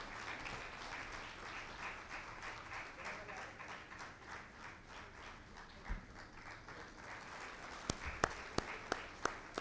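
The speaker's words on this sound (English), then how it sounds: "Requesting all to please have a big round of applause for the chief guest." Audience applause for the chief guest at an inaugural ceremony, a fairly quiet crowd clapping with a rhythmic, rolling texture, a few louder close claps near the end and no speech.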